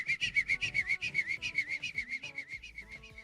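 A person whistles a rapid run of short, repeated high notes in a steady pulsing rhythm, close and clear, with faint background sounds underneath and no talking.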